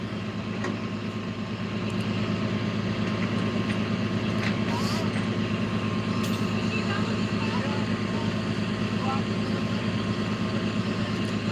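A tow truck's diesel engine idles steadily at a roadside collision scene involving a Sacramento Sheriff vehicle, a continuous low rumble with faint traffic around it.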